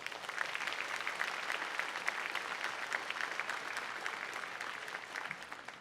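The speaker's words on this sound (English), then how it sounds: "And I think that deserves another big applause." An audience at a college convocation ceremony applauds a generous contribution on behalf of graduates, sustained dense clapping from a large crowd that stays even for several seconds and tapers slightly at the end.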